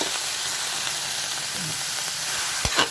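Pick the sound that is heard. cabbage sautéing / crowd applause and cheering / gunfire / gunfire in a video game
cabbage sautéing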